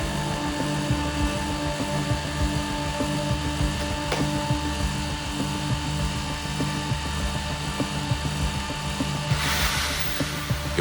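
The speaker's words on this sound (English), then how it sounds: "Now we'll reconnect the drill." A steady mechanical whine runs continuously throughout, close and constant, like a power drill held running.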